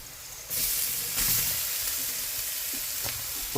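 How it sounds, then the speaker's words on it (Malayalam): Broccoli tossed into a pan of softened onions for a broccoli-carrot thoran, frying with a bright, continuous sizzle and hiss that rises as the florets hit the oil, with a few stirring scrapes, close up and without talk. "ബ്രോക്കോളി ഇട്ടുണ്ട് ഇനി നന്നായിട്ട് ഇളക്കി വെച്ചാൽ മതി"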